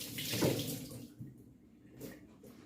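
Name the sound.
washing out a sink with water and bleach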